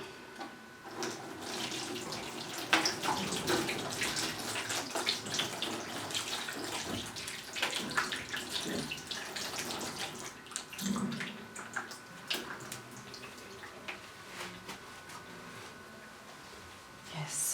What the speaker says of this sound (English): So I'll be rinsing my hands.